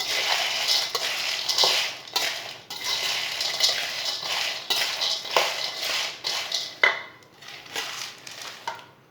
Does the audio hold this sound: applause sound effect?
no